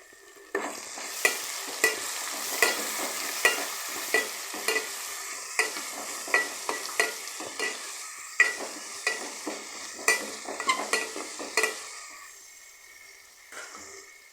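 Chillies and garlic cloves frying in a pan for bitter gourd kuzhambu, a bright crackling sizzle punctuated by regular, distinct scraping stirs that fade out near the end, no talking.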